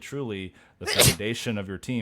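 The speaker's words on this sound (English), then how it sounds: "I'm fairly certain the whole sneeze came out before the mute showed up on the screen." A single sharp sneeze bursts out in the middle of a sports podcast about TCU athletics, briefly overlapping a man's ongoing speech before he carries on talking.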